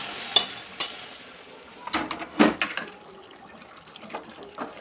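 Fried katla fish heads are stirred into simmering mung lentil dal, producing uneven wet scrapes and clinks of a spatula against the pot over a low, soft bubbling.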